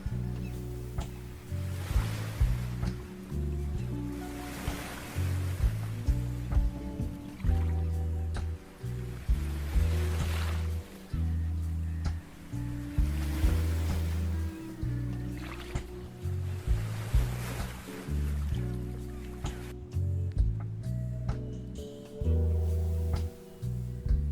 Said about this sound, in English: crashing waves, swirling winds, and misty sea spray collide at this dramatic junction